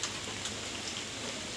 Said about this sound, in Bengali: এমন বৃষ্টি অনেকের জন্য স্বস্তির হলেও